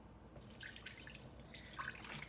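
Coconut water being poured for a greens drink makes a faint, steady splashing trickle with small drips, continuous for a couple of seconds and heard alone.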